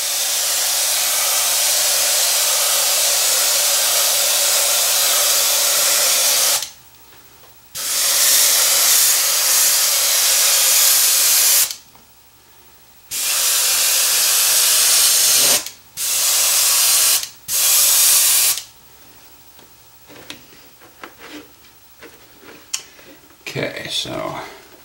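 An airbrush sprays paint onto a lexan body in several loud, close bursts of steady hiss, each stopping abruptly, followed by quieter clicks and handling noises near the end.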